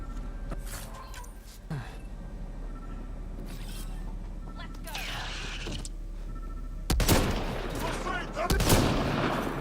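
Gunfire and combat effects in the video game Mass Effect Andromeda, bursts of shots and mechanical clanks over a steady low hum, growing louder toward the end.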